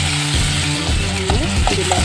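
Tomato sizzling and frying in hot oil for a tomato chutney, a loud steady crackle with stirring scrapes and clatter throughout, close and continuous.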